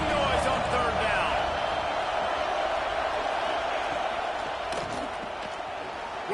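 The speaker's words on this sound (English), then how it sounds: "This dog crowd is off the leash, and they are coming after them, bringing noise on third down." An NCAA football video game stadium crowd roars in a constant, dense wash on a third-down play, staying loud and steady throughout while a play-by-play commentator talks over it.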